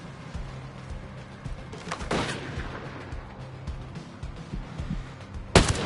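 Gunfire in the Ghost Recon Breakpoint video game: scattered loud shots over a rumbling battlefield background, with one heavy report near the middle and another sharp blast toward the end.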